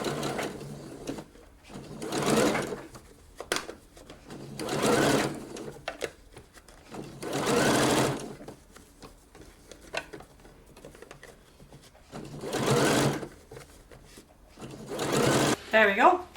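Domestic sewing machine stitching down a blouse sleeve seam allowance, running in five or six bursts of a few seconds each with quiet pauses between, close and steady.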